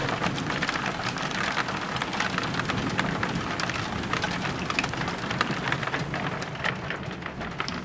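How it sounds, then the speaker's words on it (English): Heavy rain pours outside during a thunderstorm, a dense, steady downpour with no break, close and loud, with no voices. "You can hear the rain outside"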